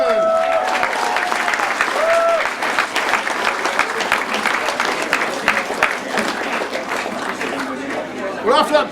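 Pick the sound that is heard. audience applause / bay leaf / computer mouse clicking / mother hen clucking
audience applause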